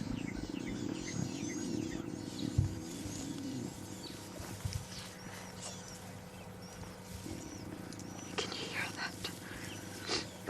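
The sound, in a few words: lion cubs vocalizing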